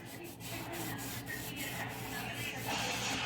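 Steady close rubbing and scraping as rust is worked off an old metal furniture relic under light pressure, a continuous abrasive hiss with faint rhythmic strokes and no talking.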